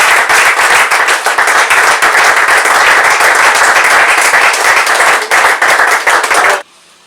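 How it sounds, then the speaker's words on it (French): Loud, close audience applause with cheering as a pastor enters at a comedy show, a dense sustained wall of clapping that cuts off abruptly near the end. "n'hésitez pas à acclamer ou applaudir le pasteur"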